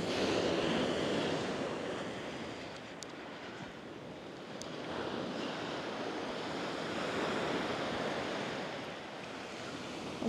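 Sea waves wash steadily onto a beach at Mazarrón, Spain, a continuous broad surf roar that swells and eases with wind buffeting the microphone and no voices.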